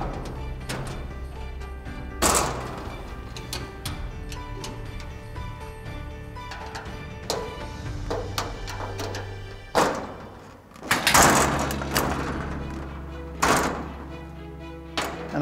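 A flat-blade screwdriver works the hinge pins out of a metal modular enclosure door, giving a series of sharp metallic taps and clicks with a few louder clanks and scrapes spread irregularly across the stretch.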